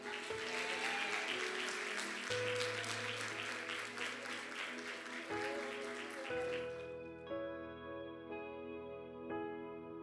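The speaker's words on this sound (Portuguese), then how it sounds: "Aplauda o Senhor." Applause fills a church women's conference hall, a dense steady wash of clapping from the congregation with sustained music tones underneath; it thins out toward the end as a held musical chord lingers.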